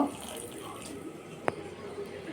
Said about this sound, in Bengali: এবার আমি জল দিয়ে দেব উষ্ণ গরম জল জল দিয়ে একটা ডো বানিয়ে নেব